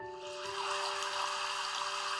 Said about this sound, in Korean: 물소리죠. 계곡의 물소리.